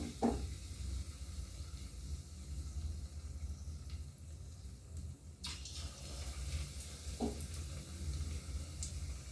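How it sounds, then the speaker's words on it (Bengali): Cauliflower pakoras dropped by hand into hot oil, a quiet steady sizzle with faint clicks and a couple of brief clinks over the bubbling. "তেলটা গরম হয়ে গেছে, এভাবে ডুবিয়ে আমি হাতের সাহায্যে করছি"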